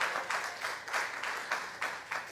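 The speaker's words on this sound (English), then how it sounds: "That's a good place to clap right there" A church congregation claps in a steady, rhythmic beat during a sermon, fairly soft and even throughout.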